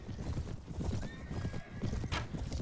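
Horse hooves clip-clopping at a steady trot and a horse neighing in the Mount & Blade game, under the clatter of battle.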